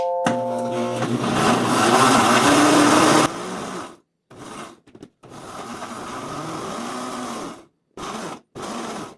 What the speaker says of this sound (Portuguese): Então tem um liquidificador potente porque fica uma massa bem grossa.